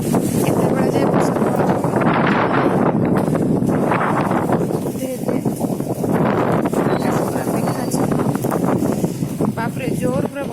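Heavy rain driven by strong wind roars steadily and loudly outdoors, with gusts buffeting the microphone and a voice talking over it throughout.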